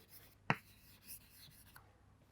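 Hand drawing a circuit key symbol, with a sharp tap of the pen followed by faint, close scratching and rubbing strokes on paper.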